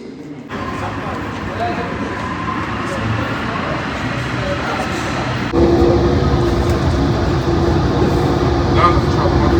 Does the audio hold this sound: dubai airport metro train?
yes